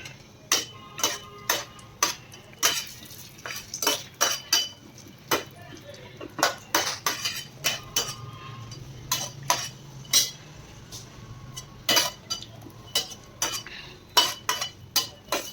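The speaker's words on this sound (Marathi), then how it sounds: "मी इथे पॅनमध्ये तेल टाकले आणि मी टाकते त्याच्यात खोबरं. खोबऱ्याला थोडंसं मी गोल्डन ब्राऊन करून घेते." Grated coconut is stirred while frying in oil in a pan, with rapid, regular spatula clinks and scrapes against the metal repeating throughout over a low background hum.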